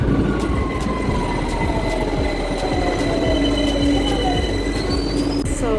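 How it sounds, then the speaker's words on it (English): A London train rumbles steadily along the rails, with high metallic wheel squeals drawing out over a constant loud roar. "I'm here on the train"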